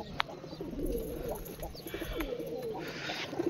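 Pigeons cooing softly inside a cage, low repeated throaty coos with a few faint chirps and small rustles, fairly quiet and close.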